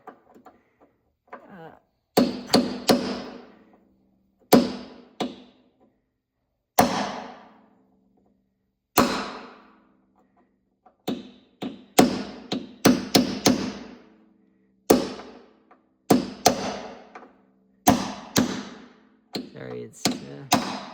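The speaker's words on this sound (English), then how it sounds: "there's like a little nail or piece right there. And they said to hammer that out first" A hammer knocks a small nail piece out of a 2026 Ski-Doo chaincase cover, sharp metallic taps in short clusters separated by pauses. Near and fairly quiet, with faint talking between the strikes.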